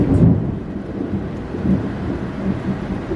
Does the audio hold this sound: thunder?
yes